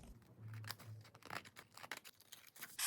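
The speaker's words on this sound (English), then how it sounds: "Then I'll just cut around this." Scissors snip around paper and card in a quiet crafting session, with soft crinkling of paper between the short cuts. The cuts sound close but faint.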